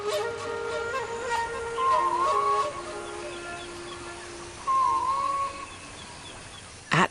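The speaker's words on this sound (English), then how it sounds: "At dawn, a male peafowl announces his presence." A male peafowl calls at dawn in the Mekong wilds, two loud, drawn-out wailing honks a few seconds apart rising over a quiet background of ambient hum.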